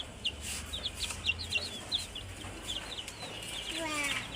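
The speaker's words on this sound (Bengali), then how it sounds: "আর এগুলো হচ্ছে দেশি মুরগি" Desi country chickens cluck in short, close, fairly faint bursts amid chirps from other yard birds, with low background noise throughout.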